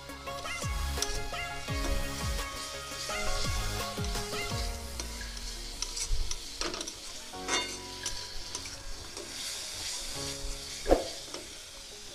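Vegetable curry with soybean chunks sizzling and frying in a pan, a steady broad hiss with intermittent stirring scrapes and clinks, one sharper knock near the end.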